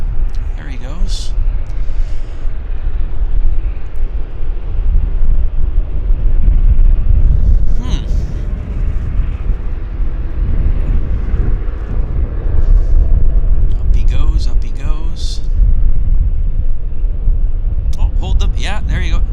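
A fixed-wing airliner flies past at Vancouver International Airport, its engine roar a steady broadband rumble held throughout, loud and fairly close, with people chatting over it.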